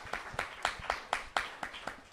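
A small audience at a book event claps in a handful of distinct, evenly spaced bursts, close and fairly soft, with no talking over it.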